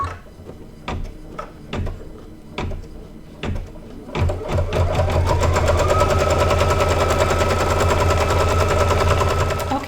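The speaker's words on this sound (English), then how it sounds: "the first thing it's going to do is stitch the placement stitch" An embroidery machine sews a placement stitch for quilt batting, starting with a few separate mechanical thumps and then settling into a steady, rapid, close-up chatter of stitching that runs without a break.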